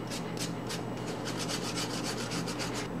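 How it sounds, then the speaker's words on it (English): A handheld grater rasps across watermelon rind to smooth a carved baby face, making a series of close, rhythmic scraping strokes of steady moderate loudness with no talk. "If you have a handheld grater, this is a perfect way to smooth out the baby's face."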